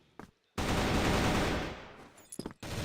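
Gunshots in a competitive shooter video game match at the CFS 2023 Grand Finals: after a brief lull, a loud, dense volley of rapid fire breaks out and slowly tapers off, followed by a few short, sharp bursts near the end.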